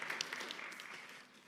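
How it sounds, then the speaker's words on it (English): A synagogue congregation at a bar mitzvah afternoon service gives brief, faint applause of scattered claps that fade over about a second and a half. "No need for applause"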